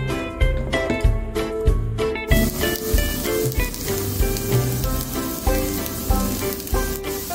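Potato mochi made from Jagarico snacks frying in a pan for an outdoor mountain meal, a loud constant sizzle with crackling pops, preceded by a few rhythmic clacks, no voices.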